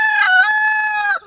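A rooster kept alongside hens and turkeys on a small farm gives one loud, close crow lasting just over a second, ending abruptly with no other sounds.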